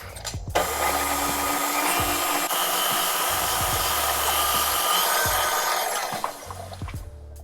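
A custard base of cream being mixed quickly with a motorized mixer, a loud steady whirring that runs nearly the whole time before cutting off, with brief clicks and knocks at the start and end.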